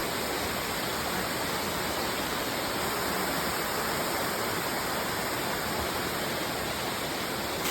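Dense, steady rushing of a waterfall at Forest Camp, Siquijor, Philippines, loud and unbroken throughout, with no other sounds standing out.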